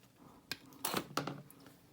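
Wire cutters snip excess wire leads on a Bazz Fuss fuzz pedal circuit, giving a few faint, close, sharp metallic clicks spaced apart in a quiet room.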